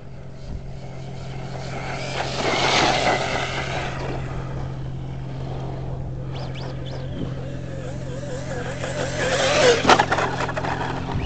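Arrma Senton Mega and Traxxas Slash 4x4 VXL radio-controlled trucks racing, their electric motors giving a steady whining buzz that swells and fades, then grows louder and closer near the end.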